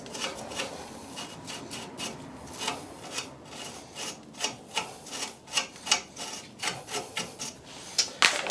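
Corroded threads on a Fiat 500 front shock absorber being scraped clean, heard as close, rhythmic rasping strokes that grow steadily louder, with no talking.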